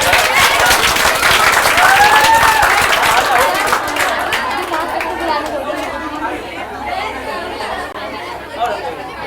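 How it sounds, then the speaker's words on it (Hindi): An audience at a coaching-class farewell celebration claps loudly and steadily, the applause fading gradually over several seconds while a crowd chatters underneath. "तालियों में कमी नहीं होनी चाहिए।"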